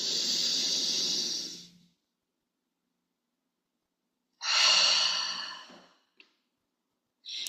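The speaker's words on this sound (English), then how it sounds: "Get all my breath out. I'm gonna breathe in." A person breathes deeply during a guided breathing exercise: a long breathy exhale, a quiet pause, then another long audible breath in, close and clear with no talking.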